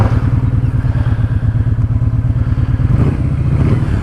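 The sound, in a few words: Kawasaki Vulcan Vaquero motorcycle engine starting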